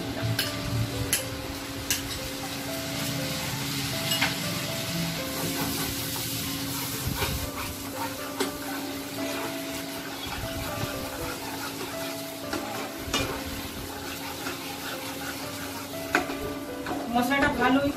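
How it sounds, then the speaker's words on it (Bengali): Spice masala mixed with yogurt fries in a pan, giving a continuous close sizzle and hiss with steady stirring scrapes throughout, and occasional ticks of the utensil against the pan. "মশলাটা ভালোই সুন্দর করে আমার ভাজা হয়ে গেছে।"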